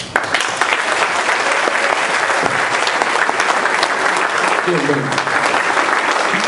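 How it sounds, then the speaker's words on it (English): Loud, dense applause from a crowd at a dinner dance, steady clapping filling the whole stretch without pause. "Applause for my friend Arresta here."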